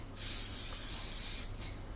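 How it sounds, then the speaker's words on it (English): Aerosol can of glaze shine spraying outdoors: one continuous hissing burst of about one and a half seconds, close and fairly loud, ending with a brief short puff, with no talk. "I would only ask you to go outside if you were spraying that glaze shine"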